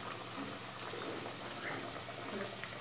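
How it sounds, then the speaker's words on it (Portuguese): Homemade pastéis frying in hot oil, a steady dense sizzle and crackle with small pops, moderately loud and continuous throughout, with faint voices in the background. "Já tô fritando os pastéis, gente."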